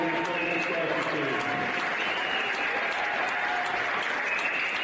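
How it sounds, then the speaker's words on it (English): An audience applauds the Indiana soccer team at a high school basketball game, a dense, sustained roar of clapping with crowd noise mixed in, loud and steady throughout. "Let's hear a round of applause for the Indiana soccer team"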